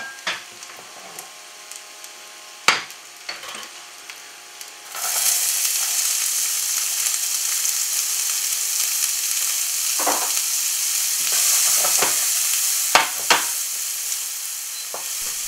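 Onions fry in a pan. A few sharp scraping knocks of stirring come first, then a loud, steady sizzle starts and carries on under further clacks of the spoon against the pan.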